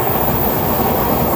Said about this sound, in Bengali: সবুজ অরণ্যের মাঝখান দিয়ে আমাদের ট্রেন ছুটে চলেছে।